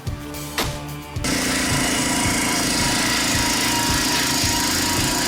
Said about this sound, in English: A gas-powered circular saw built for those who demand both precision and power.